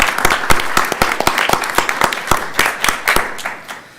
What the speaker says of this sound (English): How about a round of applause for our two newest commissioners?